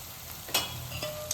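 Onion fries in a pan with turmeric and coriander powder, giving a short, close sizzling hiss with a few soft stirring scrapes.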